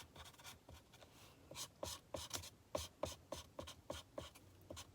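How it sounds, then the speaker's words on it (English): Sharpie markers coloring a paper circle in quick back-and-forth scratchy strokes, close and fairly quiet, with a steady rhythmic rubbing that speeds up partway through. "we're just gonna color this circle."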